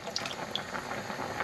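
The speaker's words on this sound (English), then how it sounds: "I might just thin that out a little bit with a little splash of water" A small splash of water poured into a thick pasta sauce on the stove, a brief light trickle and liquid patter, fairly close and alone.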